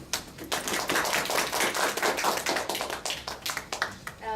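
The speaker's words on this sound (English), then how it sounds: "Please welcome Mr. Nguyen with a big applause." Dense applause from a crowd at a round table event in Tokyo, many hands clapping steadily for several seconds, fairly close and loud, tapering slightly near the end.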